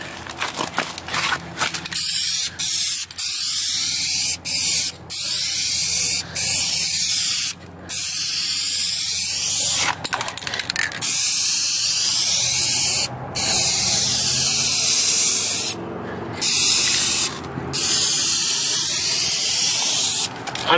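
Aerosol spray paint hisses in repeated bursts over automotive trim cladding during a DIY restoration, each long pass broken by short gaps, close and steady with faint mechanical clicks between strokes.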